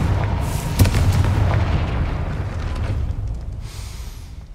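A Confringo fire spell explodes in Hogwarts Legacy, a heavy booming blast with a sharp crack near the start that rumbles and fades slowly over several seconds.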